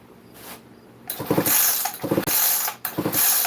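Several quick bursts of ratcheting clicks tighten a gap on a mechanism, close and fairly loud, in separate strokes with brief pauses between them.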